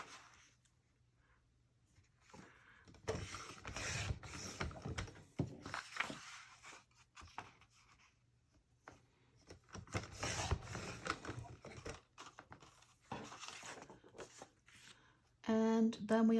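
Paper being cut for a Creative Memories scrapbooking project, producing bursts of scraping, slicing strokes under quiet talk, with a few pauses between cuts and a sharp buzzy noise at the end.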